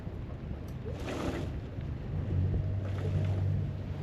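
A sailboat heads out of a harbour on the Liane River under sail with its engine off, carrying steady wind rush and water wash against the hull, with a low hum that swells partway through.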